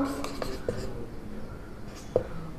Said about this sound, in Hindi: अब हम यहां लिखेंगे